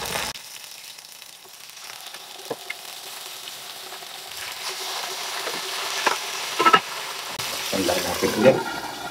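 Pork and chicken pieces, a second batch, frying in a hot pan with a steady hiss and crackle, with occasional louder pops and spatters near the end.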